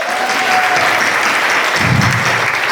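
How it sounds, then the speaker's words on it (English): Loud, close applause from a conference crowd at a nomad festival in Bansko, a brief burst of dense clapping that stays strong throughout. "A massive applause for yourself for being here"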